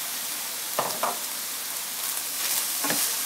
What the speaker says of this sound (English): now I'm going to add in the frozen stuff, which is the frozen chopped onion and the spinach